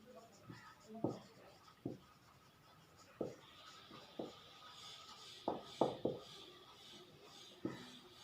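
Pen strokes on paper while working a maths problem on cube numbers, short scratchy marks in irregular bursts, close and fairly quiet, with a voice talking softly in the background between strokes.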